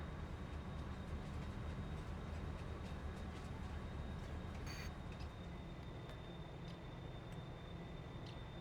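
A freight train sits rumbling steadily while being loaded with soybeans in a farming simulator game, with a brief clank partway through and continuous mechanical drone throughout.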